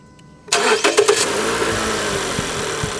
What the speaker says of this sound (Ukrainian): Мотор опустився нормально, працює рівненько